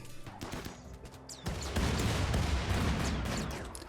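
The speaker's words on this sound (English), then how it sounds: "A bit of shooting." Gunfire in the video game Rimworld: a dense burst of crackling shots that grows louder and more sustained partway through, continuing as a rough, rumbling volley.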